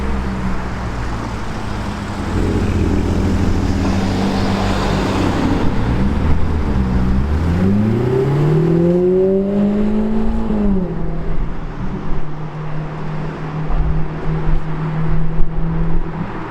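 Tuned McLaren 720S running over 800 horsepower: a steady exhaust drone, then one rev that climbs, holds and falls back midway, before settling to a low rumble with street traffic noise around it.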